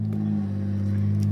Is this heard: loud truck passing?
yes